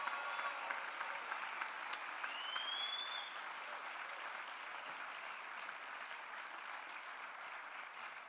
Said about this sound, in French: qu'on peut applaudir à fond